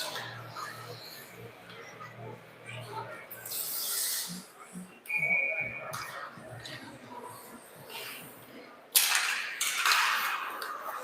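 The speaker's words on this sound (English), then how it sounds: "Net whistle now." A referee's whistle gives one short, steady blast at a U11AA youth ice hockey game against the Sudbury Jr. Wolves. It rises over the noisy rink ambience and scraping, and a sharper burst of crowd noise follows a few seconds later.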